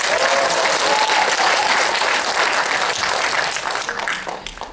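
An audience of parents applauds at a lecture in Chungju Jungsan High School's hall. The clapping is loud, dense and sustained from the start, then tapers off toward the end.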